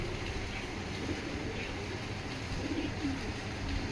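Racing pigeons coo softly inside a busy loft, low murmuring calls buried in steady broadband background noise.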